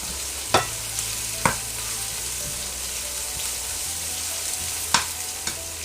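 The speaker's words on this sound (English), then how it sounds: "Here's my brinjal gravy. It's getting ready here." Brinjal gravy sizzles and bubbles in a pan, a constant close frying hiss punctuated by a few sharp clicks and pops.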